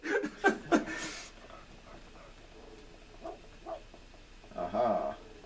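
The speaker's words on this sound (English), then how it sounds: "What are you barking at, boy?" A dog in the Bratz Forever Diamondz video game gives a few quick barks and yips at the start, then a longer whining bark near the end, with quiet game background in between.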